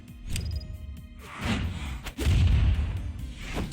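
An explosion in the Brawlhalla fighting game during a competitive match, heard as a couple of heavy thumping booms with whooshing bursts, moderately loud over a game soundtrack.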